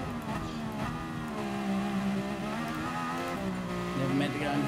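A racing car engine in GT Sport drones steadily, revving up and down with shifting pitch, loud and continuous with no one talking over it, during an F1 open lobby race.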